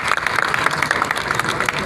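An audience applauding during an Urdu poetry panel discussion at the 17th Aalmi Urdu Conference, with dense, steady clapping from a crowd that fills the hall and carries on loud and even throughout.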